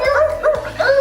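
Children imitate a sea lion with short, dog-like barking yips, three quick voiced calls in about a second, close and lively.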